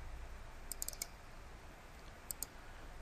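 Computer mouse clicks while creating a Spring application project, a quick cluster of four light clicks followed after a pause by two more, faint and close over quiet room hiss.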